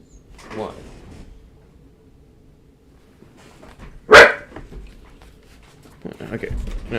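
A pet dog barks once loudly and sharply indoors after a quiet stretch, with someone talking faintly before and after.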